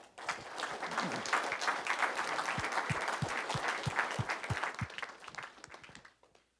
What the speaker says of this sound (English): let's give the Rokeys another big round of applause.